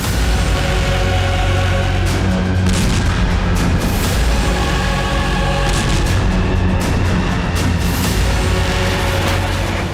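Explosions and heavy blasts in a desert battle as Azerbaijani forces strike an Armenian tank, a dense, loud, unbroken barrage of booms and crackling fire lasting the whole stretch.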